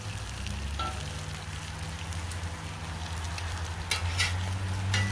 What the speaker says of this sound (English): I give this bacon another 1 or 2 more minutes, it'll be ready.